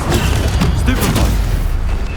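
Stunning spell cast in a fantasy action video game: a short loud burst of booming, crackling impacts over a dense rumble, brief and close.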